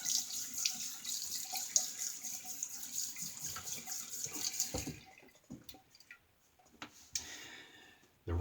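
Tap water runs steadily into a sink while a vintage Olaf Rasmussen straight razor is rinsed, a close hissing stream for about five seconds, then the flow stops, leaving a few drips and small clinks.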